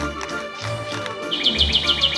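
A bird chirps in a fast series of sharp, bright notes, starting faintly and growing loud and repetitive over a low background hum.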